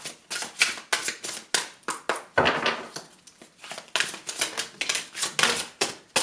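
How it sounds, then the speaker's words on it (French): A deck of oracle cards is shuffled by hand in rapid bursts of crisp riffling and flicking, close and loud, with brief pauses between bursts and no talking. "On va voir quelle carte je vais piocher pour vous."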